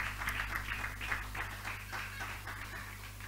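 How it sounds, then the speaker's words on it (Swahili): A church congregation claps together, a steady run of soft, even claps that fills the room at moderate loudness over a constant low hum. "Tumpigie makofi anapokuja."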